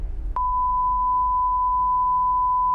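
A loud, steady electronic censor bleep masks a spoken address. It is one continuous pure tone that starts abruptly after a brief moment of low background noise and holds unbroken to the end.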